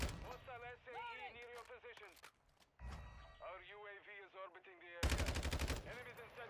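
Video game gunfire comes in a short loud burst of rapid shots near the end, after a stretch of talk.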